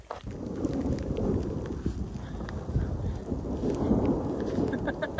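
Rolling thunder over the Grand Canyon's North Rim during a hike, a long continuous rumble with dense crackling texture lasting throughout and no speech.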